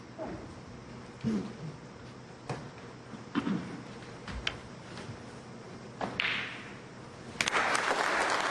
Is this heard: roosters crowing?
no